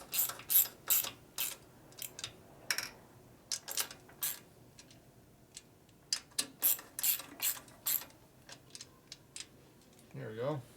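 Socket ratchet tightening a bolt on a 1965 Harley-Davidson panhead 74ci FLH engine, a short socket reaching down by the intake manifold; quick bursts of sharp clicking in irregular runs, close and fairly loud, with a brief voice near the end.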